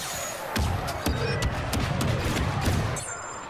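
Artillery bombardment called in during a Star Wars Battlefront 2 match: a rapid series of heavy booming impacts and blasts, several strikes landing in quick succession amid ongoing gunfire, fairly loud and sustained.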